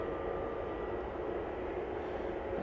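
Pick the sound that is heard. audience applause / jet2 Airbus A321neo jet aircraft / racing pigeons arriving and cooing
jet2 Airbus A321neo jet aircraft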